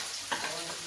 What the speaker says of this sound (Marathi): यानंतर हा धुतलेला बटाटा चिरलेला आपण तो पण परतून घ्यायचा.